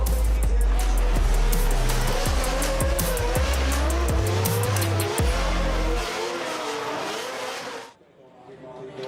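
Turbocharged drift cars compete at a drift event in Riga, with loud revving engines and long screeching tire squeals sweeping up and down, punctuated by gear shifts, before the roar fades abruptly near the end.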